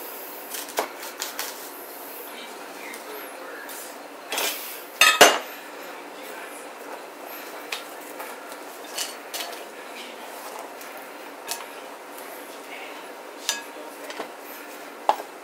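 A knife thinly slices an onion on a cutting board for pickled onions, giving light irregular taps and clicks with one sharper clatter partway through, close and fairly quiet against a faint background hiss and no talking.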